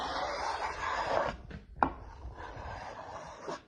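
A rough plywood edge scrapes and smears resin across a worktop, giving a gritty continuous rubbing that breaks into a few short scrapes and a sharp knock, close by with no speech.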